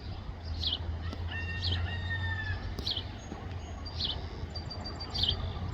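Chickens cluck and call in short bursts around a yard, with a low steady hum running through the background.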